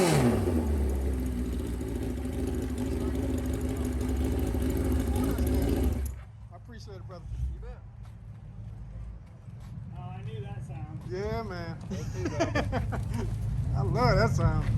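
At a car and bike show in Oklahoma City, an engine runs with a loud, steady low rumble for about six seconds, then cuts out abruptly, leaving people chatting close by.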